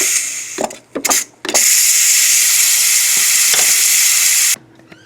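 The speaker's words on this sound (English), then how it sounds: "I'm going to release the pressure valve and let all the steam out of the pot." A Ninja Foodi pressure cooker venting steam through its release valve after cooking: a few short bursts and clicks, then a loud, steady hiss that holds for several seconds before cutting off abruptly.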